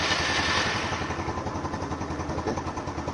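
A motorcycle engine cranked with its electric starter catches and settles into a steady, pulsing idle, loud and close throughout with no talk.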